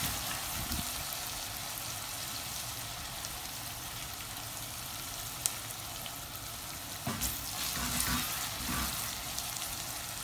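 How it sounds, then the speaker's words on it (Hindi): Mutton chops and onions sizzle steadily in a hot pan, a quiet constant crackle with occasional stirring scrapes and no talking. "भूनते रहना है चॉप्स को।"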